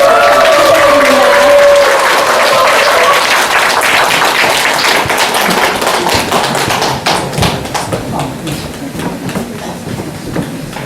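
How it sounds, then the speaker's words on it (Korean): Audience applause welcoming a poet onto the stage at a humanities concert held in a converted closed-down school in a Chengju village, a sustained wash of clapping that starts loud and thins out toward the end. "저희들의 시통령 정호승 선생님을 큰 박수와 함께 이 무대에 소개해드립니다"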